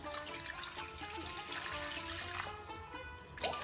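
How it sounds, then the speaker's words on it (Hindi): Water from a tap pours steadily into a pot holding frozen chicken, a continuous splashing trickle at low level with no talking. "ये चिकन फ्रीज किया हुआ था, इसको डालती हूँ, और इसको मैं बस पानी डाल के ना"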